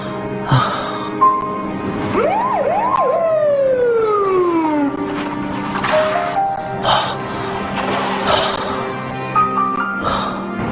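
A loud police siren wailing with rising and falling sweeps and yelps, close by, amid traffic noise.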